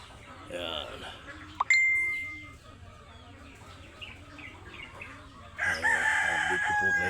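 Chickens cluck and a rooster crows on a small farm on a muddy morning after overnight rain. The crowing is loud and close, with a second burst of calls near the end and a faint voice in the background.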